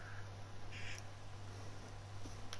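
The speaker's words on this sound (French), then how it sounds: "J'entends le bruit des oiseaux." Faint bird calls in the survival video game ARK chirp a couple of times early on, thin and distant under a constant hiss and low hum.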